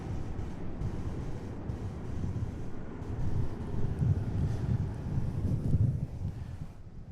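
Wind blowing outdoors beside an airport runway, a steady low rumbling roar buffeting the microphone, swelling in gusts toward the middle and end, with no other distinct sounds.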